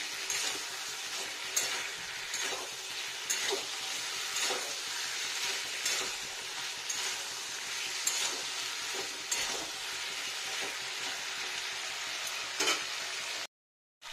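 Potatoes, peas and paneer sizzle steadily in hot oil in a pan for a vegetarian curry, with scrape-and-stir strokes of a spatula every second or so, close and fairly loud, cutting off just before the end.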